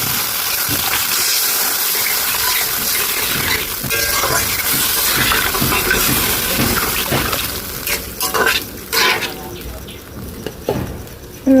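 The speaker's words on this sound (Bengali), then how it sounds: "এবার পানি দিয়ে দেবো ঝোলের জন্য" Water gushes into fried spices in a pan, the start of a fish curry gravy with rohu, a loud continuous pour that breaks into splashy bursts toward the end, with no talking.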